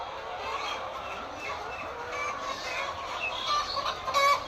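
Chickens on a poultry farm, with young chicks and older laying hens, cluck and murmur steadily at moderate distance. Scattered clucks overlap, and a few louder calls come near the end.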